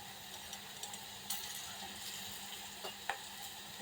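A spiced masala with turmeric and red chilli, cooked for a Konkan-style crab curry, sautés in a pan with a faint, even sizzle and occasional light scrapes of stirring, quiet and without speech.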